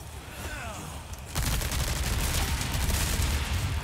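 SMG gunfire in Resident Evil 4 Remake, a dense, continuous burst of rapid shots that starts abruptly after a quieter opening and stays loud and close throughout, with no talking.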